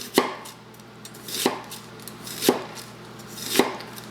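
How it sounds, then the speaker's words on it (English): A knife slicing an onion on a cutting board: four crisp, evenly spaced chopping knocks about a second apart, close and clear, with no talking. "So I'll slice, but I'm not going to cut all the way through."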